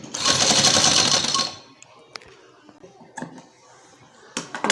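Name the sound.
sewing machine stitching fabric along trouser edge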